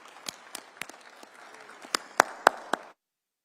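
A conference audience at an industrialisation investment event claps, scattered and thin at first, then a few louder close claps before the applause cuts off abruptly.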